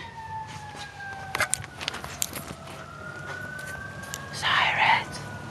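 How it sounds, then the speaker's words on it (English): Faint emergency vehicle sirens wail in slow rising and falling sweeps from a distance during a rainy, stormy night, while people nearby whisper and talk quietly. "Sirens. I think they're coming."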